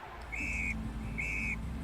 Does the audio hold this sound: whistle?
yes